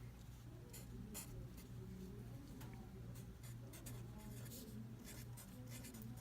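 Marker or chalk strokes on a board, heard as faint, scratchy, intermittent bursts of writing over a steady low room hum, with no talking.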